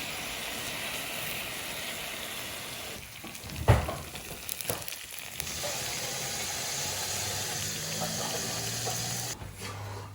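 Thick sauce poured onto a hot sizzler plate of brownies hisses in a steady broadband sizzle, with a brief clatter near the middle before the frying hiss resumes, fairly close and moderate in loudness.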